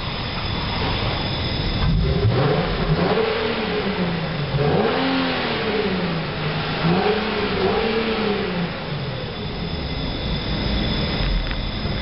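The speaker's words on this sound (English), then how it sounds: "Gotta love the sound of that." A 2008 Infiniti G37 engine revs repeatedly in rising and falling sweeps, loud and close, with steady broadband noise throughout and no talking.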